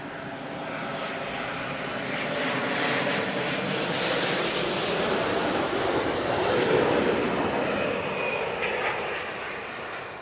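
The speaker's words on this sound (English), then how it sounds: "That was a firm old landing for the 350." An Airbus A350 touches down at London Heathrow with a broad, loud jet roar that swells and then slowly fades, heard from a distance with no voices over it.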